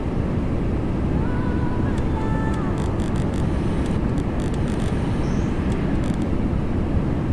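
A Boeing 737-800 in Ryanair livery lands in the X-Plane 11 flight simulator, with a steady, loud broadband roar of engine and airflow throughout and a few faint electronic tones over it.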